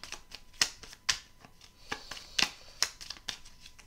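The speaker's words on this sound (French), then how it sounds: "Je prends une autre carte de temps." A card drawn from a deck during a tarot-style reading: a close, quiet run of crisp papery flicks and taps at irregular intervals, with soft sliding rustles between them and no voices.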